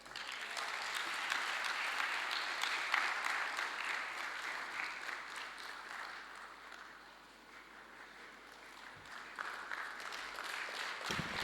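An audience at the Thabo Mbeki Africa Day Lecture applauds President Thabo Mbeki. The clapping is steady and crowd-wide, dips briefly partway through, then swells again.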